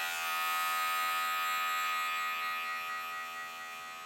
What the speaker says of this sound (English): this clipper is going to be clipping each of those little micro hairs